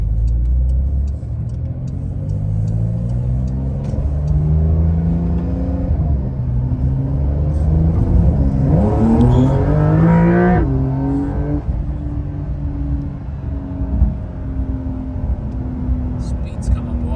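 A Porsche 911 Carrera GTS engine hums, then climbs sharply in pitch as the car accelerates hard, heard from inside the cabin. The drone stays loud and continuous, and quiet voices sit faintly underneath.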